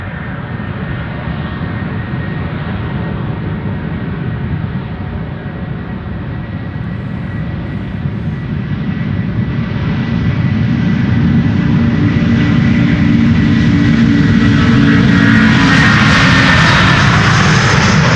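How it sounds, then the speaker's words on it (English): A Delta Airbus A330 at Schiphol Airport spools up its jet engines, a loud rumbling roar that swells steadily and gains a rising whine toward the end, with no voices. "Another Delta A330 spooling up"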